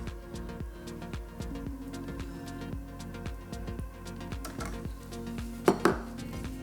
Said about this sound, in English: So spoon in your nacho mixture, or your bean mixture.